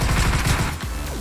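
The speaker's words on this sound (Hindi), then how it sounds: "तो फिर मैं भी उस पर फायर करता हूँ" Dense, continuous video-game gunfire fills the clip, loud and close, a rapid burst of shots in an online team shooter match.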